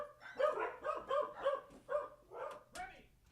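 Several dogs bark in a rapid, loud run of about seven barks close by, with people talking and shouting over them indoors.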